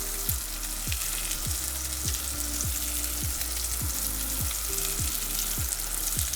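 Blackened salmon fillets sizzle in a hot pan, a steady close frying hiss with a series of regular soft knocks or taps roughly every second, and no voices.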